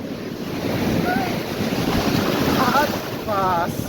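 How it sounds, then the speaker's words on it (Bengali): Big ocean waves break on the beach at Digha with a loud, continuous roar and heavy wind buffeting the microphone. "এরকম একটা বড় ঢেউ আসছে এই জায়গা"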